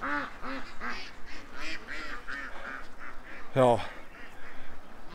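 A dense flock of some 1,100 ducks crowded onto a confined lawn, their loud, overlapping quacks and honks running almost nonstop, with one sharp burst standing out midway and a brief spoken exclamation at the start.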